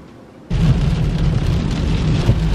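Steady, loud rain pours down outdoors, beginning abruptly as a dense hiss and continuing without a break, with no voices.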